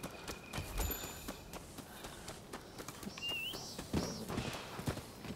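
Horse hooves clip-clop at a steady trot in the samurai action game Rise of the Ronin, moderately near under a bed of ambient noise with brief bird chirps over it.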